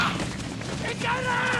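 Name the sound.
gunshot in a film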